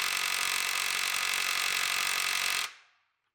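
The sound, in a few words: cheap Amazon impact wrench on semi truck lug nuts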